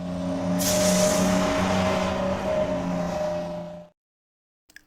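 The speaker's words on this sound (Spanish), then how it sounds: "autobús" A bus engine running loud and steady with a low droning hum and a brief hiss of air near the start, then cutting off abruptly, followed by a faint click in silence.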